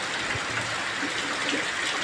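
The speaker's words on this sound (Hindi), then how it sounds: "देखिए बारिश भी शुरू हो गई है, बहुत तेज बारिश हो रही है।" Heavy rain pours down with a dense, steady broadband rush, loud and close throughout, with no voices heard.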